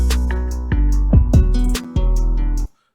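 A trap-style beat with a fast hi-hat roll whose hits swell and fade in velocity, over booming sliding bass and a melodic loop, loud and close, ending abruptly.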